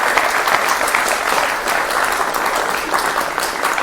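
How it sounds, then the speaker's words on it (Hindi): A studio audience at a television news debate show claps loudly to welcome a swami arriving as a guest, a dense, sustained burst of many hands with no talk. "जोरदार तालियों के साथ उनका भी स्वागत कीजिए"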